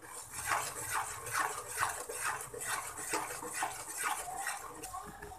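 A spoon scrapes and stirs semolina halwa in a pan in a steady repeating rhythm, close and fairly soft, with a faint low background hum.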